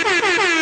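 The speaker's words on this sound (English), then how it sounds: "I get the air horn for that, huh, Mo 3?" A single short blast of an air horn sound effect, loud and close, with a harmonic-rich tone that dips slightly in pitch.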